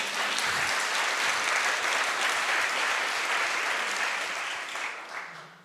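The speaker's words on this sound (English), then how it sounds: "Yes, applause." Audience at a conference closing plenary breaks into sustained applause, a dense, even wash of many hands clapping that holds steady for several seconds before tapering off.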